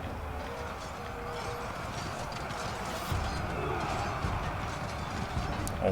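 Cavalry horses charge across a battlefield in the video game Total War Pharaoh, their hooves a dense, continuous rumble of clip-clop beneath a steady wash of battle noise, with a few louder thuds toward the end.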